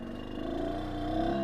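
Kayo two-stroke dirt bike engine pulling at low revs in tractor mode over rocks and dirt, a steady buzzing drone that swells slightly, close and continuous with no talk.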